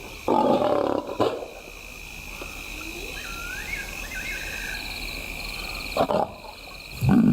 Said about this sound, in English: the youngsters have heard her call and they meet halfway.